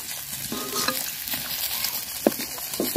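Pond-caught fish fry in hot oil, a dense close sizzle with scattered spattering pops and a few sharper clinks as pieces are turned.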